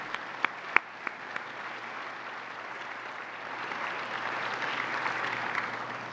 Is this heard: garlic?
no